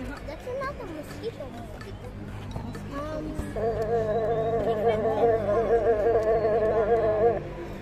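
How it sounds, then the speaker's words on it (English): A mosquito's thin, high buzzing rises close by and holds steady for several seconds, with people talking around it before and during the whine. "It's a mosquito."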